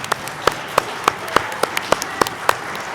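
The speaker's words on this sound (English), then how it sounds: "Give yourself a round of applause." Sparse, evenly spaced hand claps mark a middle school eighth grade promotion, about nine crisp, close strikes in a steady rhythm, more like a few people clapping than a full crowd.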